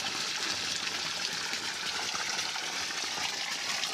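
Borewell water pouring steadily into a built tank on a farm plot, a constant hissing, splashing gush close by with no voices.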